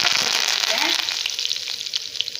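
Lentils sizzling and frying in hot oil for vatha kuzhambu, with a dense close crackle and hiss broken by small pops and a stirring scrape.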